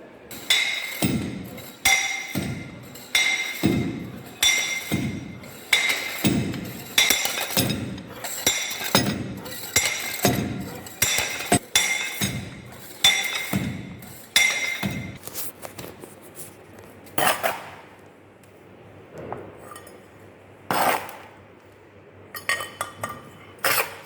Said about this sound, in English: we will compact this sample into the mold in equal 5 layers having 25 number of blows